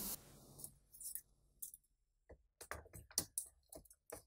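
A laptop keyboard being pressed back into its slot during a RAM upgrade, giving a quiet run of scattered plastic clicks and taps with short gaps between them.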